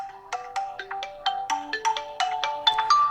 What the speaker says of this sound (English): Start finding, and it'll start ringing on your phone.